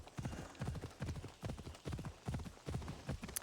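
Phobos, a horse in the Assassin's Creed video game, walks with a steady, rhythmic clip-clop of hooves, close and fairly loud, with no talk over it.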